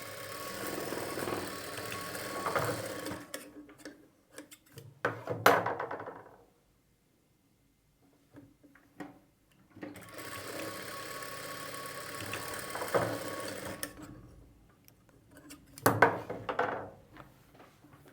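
A sewing machine stitches a plain blouse in two bursts of steady mechanical running, separated by a quiet pause, with a few short clunks as each run ends.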